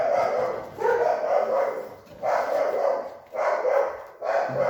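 A dog barks outside in repeated loud bouts, about four bursts of barking with brief lulls between them, close and prominent with no talking.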